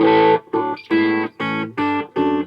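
Electric guitar played through an MCE Battlehammer distortion pedal on a cleaner, less compressed setting, sounding five close, loud, evenly spaced chords or notes, each ringing briefly before a short gap.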